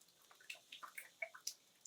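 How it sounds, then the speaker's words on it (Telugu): Water drops falling from a hillside into a stone trough at a hill fort, a sparse series of separate clear drips and plinks at irregular intervals, fairly near and quiet. "ఈ నీళ్ళ తొట్టులో వచ్చేసి పైన కొండపై నుంచి పడేటువంటి వాటర్ అనేటువంటి డ్రాప్స్ ఇక్కడ పడుతుంటే"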